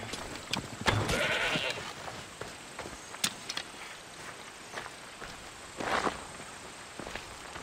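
Goats bleat in short bursts in the video game Assassin's Creed Odyssey, a couple of them near and clear, with scattered footsteps and small clicks between calls.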